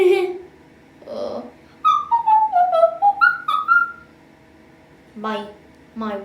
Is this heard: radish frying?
no